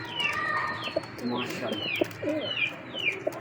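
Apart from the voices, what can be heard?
pigeons cooing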